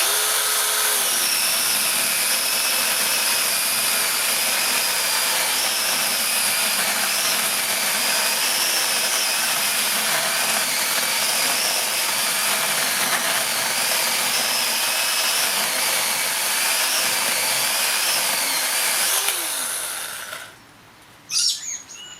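Cordless Banggood chainsaw cutting through a wood log, a sustained steady high whine running close and loud for about twenty seconds before the motor stops and winds down.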